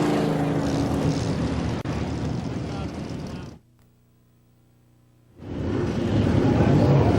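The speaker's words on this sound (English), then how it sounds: "as you can hear the sound of rolling thunder in the background, the modifieds are about ready to come out" Modified race cars rumble at KilKare Speedway, a loud, steady engine roar that cuts out to near silence for about two seconds before swelling back, with voices heard through it.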